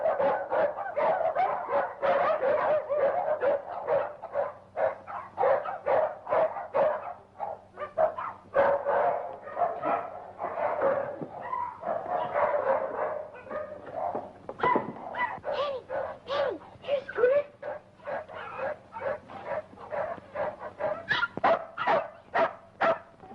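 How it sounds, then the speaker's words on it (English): Several dogs bark and yip in rapid, overlapping bursts, restless and agitated before a coming storm, with whimpering mixed in; the barking is fairly close and continuous for the whole stretch, with no speech over it. "What's all the barking about? Oh, the dogs are nervous tonight."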